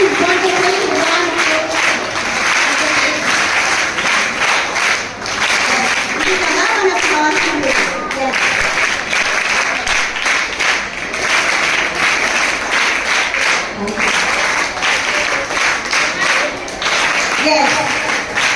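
A school audience at a Teacher's Day and Telangana language day celebration claps together loudly and steadily to welcome a teacher onto the stage, with voices talking over and between the applause.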